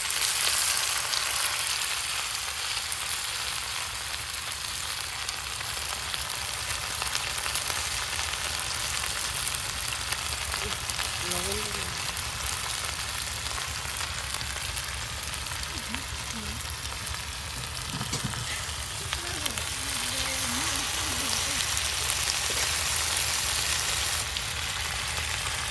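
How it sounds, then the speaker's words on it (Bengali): Beans and potatoes frying in oil with garlic, giving a loud, continuous sizzle that stays close and steady throughout, with faint voices now and then beneath it. "তেলের সাথে রসুনগুলো ভাজা ভাজা হয়ে গেছে, আর এখন এই যে সিম, দিয়ে দিলাম"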